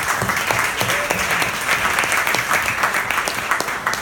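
Guests at a teacher-appreciation benefit applaud an absent teacher, lively clapping with distinct individual hand claps, close and steady throughout, with faint murmurs mixed in.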